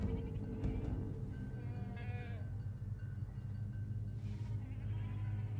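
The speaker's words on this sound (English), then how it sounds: "goats everywhere, pretty standard" Goats bleat here and there over a steady low rumble of game ambience in Medal of Honor (2010), a few short wavering calls rising above the background.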